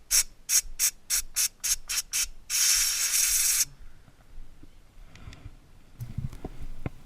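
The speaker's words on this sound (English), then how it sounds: "My oil filler cap seems to be a place that catches lots of sand and grit, so I like to blow it out" A series of short, sharp compressed-air bursts blows sand and grit off the oil filler cap of a VW GTI Mk6, followed by one longer sustained blast and then quiet handling noises.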